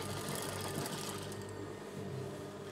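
A sewing machine stitches the folded edge of a churidar top, running as a close, loud, continuous mechanical whir that holds steady throughout with no speech.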